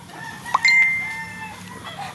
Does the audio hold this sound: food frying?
no